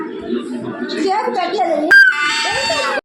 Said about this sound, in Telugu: అరుపులు చూడండి మీరే